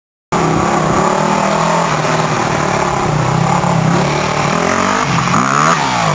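A motorcycle engine revs loudly and continuously close by, with a steady roar that climbs in pitch toward the end.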